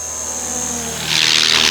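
FlishRC FL500 AH-1 Cobra 500-class RC helicopter flying overhead on its maiden flight, a loud steady rotor whine and buzz that swells as it passes close.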